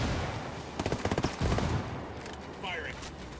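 Gunfire in Ghost Recon Wildlands: a quick burst of rapid shots in the middle, then single reports and a trailing echo, with in-game grenade-lobbing action and some faint background voice.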